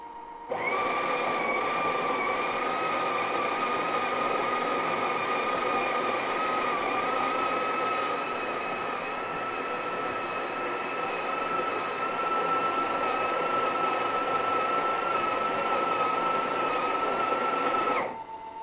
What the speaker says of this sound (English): with a flick of the switch it will start grinding, but it's actually going to tamp for us